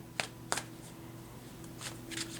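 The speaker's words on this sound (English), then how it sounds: "keep shuffling until those cards do come out" Tarot cards being shuffled by hand in short riffling bursts, a few quick rustles separated by pauses over a low steady background hum.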